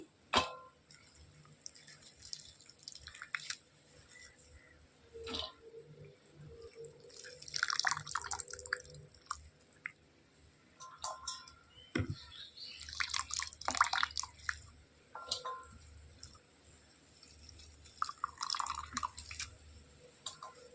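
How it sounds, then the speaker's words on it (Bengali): Water drips and splashes as a salt-soaked banana flower is squeezed out by hand, with scattered soft spatters and trickles close by, separated by quiet gaps. "এটাকে এখন আমি হাত দিয়ে এভাবে জলটাকে চিপে চিপে তুলে নিচ্ছি"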